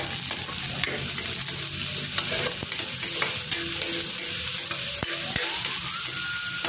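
Sliced red onions and Star margarine crackle and sizzle steadily in a pan, close and continuous, with occasional utensil stirs and taps and no voices.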